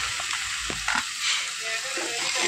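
Crab curry with chili powder fries in a hot pan with a dense, steady sizzle. A few brief stirring clatters cut through the sizzle.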